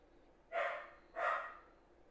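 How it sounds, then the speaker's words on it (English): A dog barks twice, evenly spaced, at moderate distance against a quiet indoor background. "The dog is yelling at me for taking those entries."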